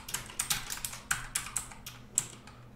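A virtual machine name is typed on a computer keyboard: a quick, uneven run of about a dozen crisp key clicks, close and clear, with no talking.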